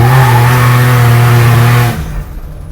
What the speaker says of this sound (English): It just trips me out that that's a 6-cylinder engine.